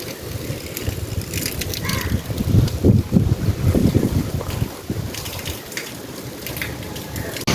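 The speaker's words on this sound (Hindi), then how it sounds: "बारिश बहुत तेज़ आ चुकी है" Heavy rain and gusting wind roar outdoors, with loud buffeting swells against the microphone and a constant wash of falling water.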